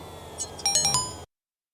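A short electronic phone ringtone in Grand Theft Auto Online plays as a quick run of bright, chiming tones, fairly faint and clean, then stops abruptly into silence.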